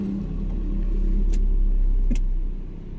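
A car with a dual-clutch automatic transmission starts up and settles into a steady low engine idle, with a brief rise in rumble near the middle and a couple of faint clicks.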